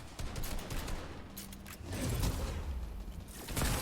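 Video game gunfire from hip-fire shooting, rapid bursts of shots mixed with mechanical clicks and movement noise, moderately loud, no talking.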